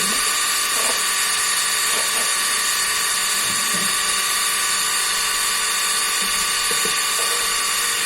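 An electric pump runs in a home kitchen while spices are mixed into an oily, spicy tengra fish curry, giving a steady whining hum with layered harmonic tones that holds throughout, joined by a few faint clinks.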